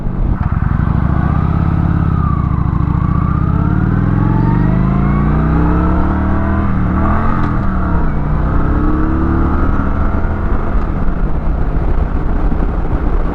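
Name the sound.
Kawasaki Vulcan 900 Classic motorcycle engine while riding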